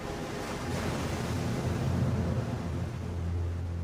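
Ocean waves washing onto a wintry American shore, a steady broad rushing surf with a low rumbling undertone, continuous and fairly loud with no voices.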